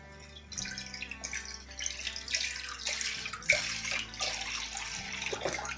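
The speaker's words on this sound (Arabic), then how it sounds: "غادي نجيب كاسرونه ندير فيها الحليب" Milk pours into a casserole pot for homemade yogurt, a soft continuous liquid splash that starts after a brief pause and carries on fairly quietly, with a faint tonal background underneath.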